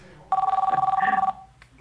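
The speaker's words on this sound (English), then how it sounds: "we hear the phone ringing profusely on the audio" A telephone rings loudly in a studio during a live radio call-in show, one sustained bright electronic trill lasting about a second, with a low murmur of studio noise around it.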